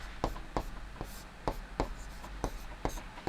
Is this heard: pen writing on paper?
yes